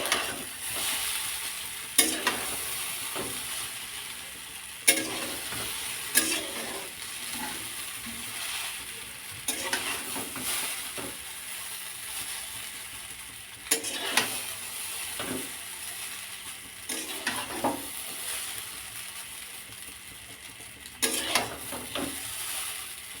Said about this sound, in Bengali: এবার চাউমিনটা ভাজবো।